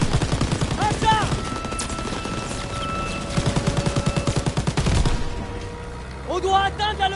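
Rapid bursts of automatic gunfire fill a Call of Duty WWII battle, with dense rattling volleys, a heavy blast near the middle, and shouted game voices over the fighting.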